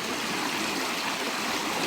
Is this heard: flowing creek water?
yes